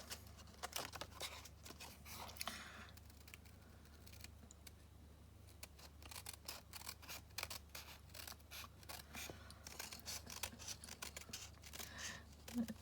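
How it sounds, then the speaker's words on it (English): Quiet, close scissors snip steadily through a paper envelope flap in many small cuts, with soft rustling between them. "just following the curve of the flap with your scissors"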